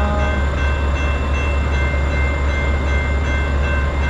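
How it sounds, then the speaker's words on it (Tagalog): A heavily loaded freight train passes close by, with a loud, continuous rumble and steady rail noise and a sustained tonal hum over it. "train na to, maraming karga, maraming hinihila"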